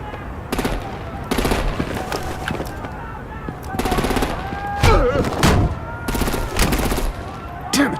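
Bursts of rapid automatic gunfire aimed at vehicles in Telltale's Batman Season 2 game, loud clustered volleys of shots separated by brief pauses, with voices in between.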